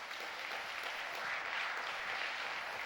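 A church congregation applauds, a dense, even clapping that fills the whole moment at moderate volume with no voices over it.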